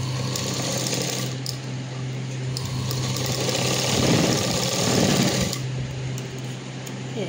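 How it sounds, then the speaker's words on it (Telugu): A sewing machine runs steadily, stitching a double-folded hem on a short frock, with a continuous close motor hum and needle chatter that swells slightly midway and carries on unbroken without any talk. "ఇలా కొంచెం డబుల్ ఫోల్డ్ చేసుకొని లోపలికని స్టిచ్ చేసుకోవాలి."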